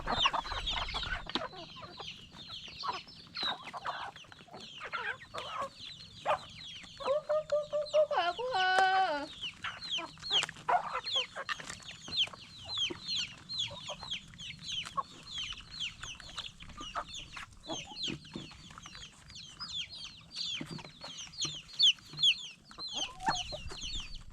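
Chickens cluck steadily throughout at a backyard or village setting, with a few rising crow-like calls midway and no talk.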